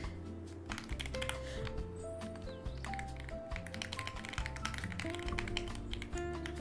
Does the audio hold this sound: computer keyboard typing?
yes